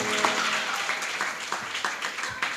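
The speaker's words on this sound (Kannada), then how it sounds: "ಎಲ್ಲರೂ ಜೋರಾಗಿ ಚಪ್ಪಾಳೆ ತಟ್ಟಬೇಕು." An audience claps steadily at a devotional purana recitation with Bhavani chanting, a dense patter of many hands with sharper individual claps standing out, moderately loud and continuous throughout.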